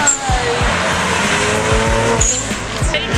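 A Honda car engine revving at a log cabin car show, loud and close, its pitch climbing and falling with hard throttle blips and rapid rhythmic pulses.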